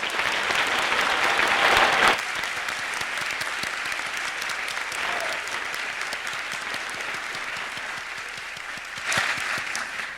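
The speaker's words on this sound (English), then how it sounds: "please give them an enthusiastic round of applause" Sustained applause from a large commencement crowd, loud and dense, easing slightly after a couple of seconds and swelling again briefly near the end.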